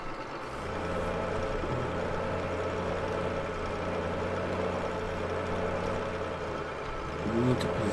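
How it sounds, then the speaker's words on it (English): A tractor engine running in Farming Simulator 15, a steady, low mechanical drone with harmonic hum held throughout at moderate level, picking up briefly near the end. "Start the tractor up."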